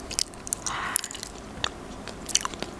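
Crunchy nuts are bitten and chewed up close, giving sharp repeated crunches in an irregular rhythm with no speech.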